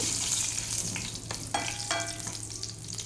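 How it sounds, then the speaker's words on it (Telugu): Mustard seeds, cumin, asafoetida, fenugreek powder and dried and green chillies sizzling in hot oil for a tempering, a steady close frying hiss with sharp crackles and pops from the spitting seeds. "తాలింపు వేసుకుంటున్నాను నేను ఫస్ట్ ఆవాలు జీలకర్ర ఇంగువ కొద్దిగా మెంతి పొడి ఎండుమిర్చి అలాగే పచ్చిమిర్చి"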